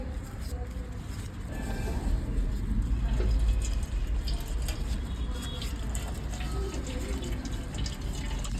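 Tap water runs steadily as hands are rinsed during a manicure, a soft, continuous splashing flow with faint dripping, heard at moderate distance under light background noise.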